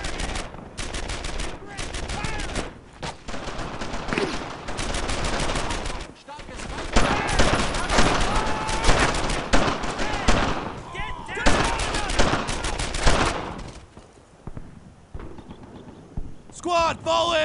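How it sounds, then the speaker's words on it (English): Squad combat gunfire in the World War II shooter Brothers in Arms: Earned in Blood, at St. Martin, where bursts of rifle and machine-gun fire rattle in rapid volleys, interrupted by shouted voices. "I'm taking some fire here! Start firing there!"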